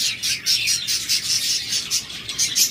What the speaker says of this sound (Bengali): এখানে এক জোড়া ককাটেল রয়েছে